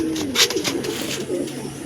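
Punjabi pigeons coo in a few low, rolling calls close by, with a steady bed of bird noise behind them.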